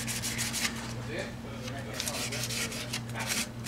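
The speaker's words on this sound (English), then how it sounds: "Wet sand." Wet sanding on a repaired carbon fiber propeller makes soft, faint rubbing strokes in a loose back-and-forth rhythm, with a low electrical hum underneath.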